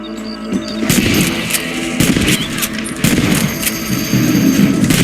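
Rifle shots ring out at rabbits in the Western video game Red Dead Redemption, several sharp loud cracks spaced about a second apart over steady outdoor ambience.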